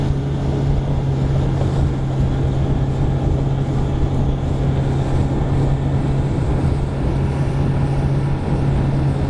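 Boat ride on the Camino Portuguese route, a steady, loud engine drone with a constant low hum and rushing wind and water noise, continuous and close, with no talking.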